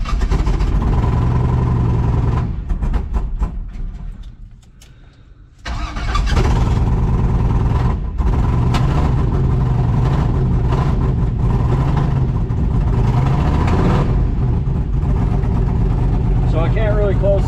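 A Chevrolet C10 truck engine idles roughly with the hood open, an uneven low rumble that dips and nearly dies midway before picking back up, with a voice speaking over it.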